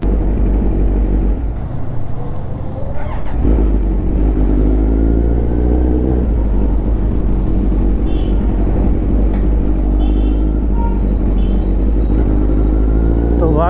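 A Kawasaki Z900 motorcycle runs with its exhaust throbbing in a loud, low, steady idle close by, with slight rises in pitch. Someone talks over it now and then.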